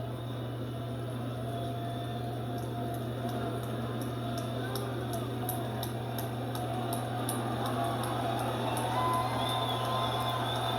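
A Detroit baseball crowd at a full count on a walk-off walk, heard as a steady, far-off roar. The din swells slightly toward the end under a constant low hum, with no clear talk.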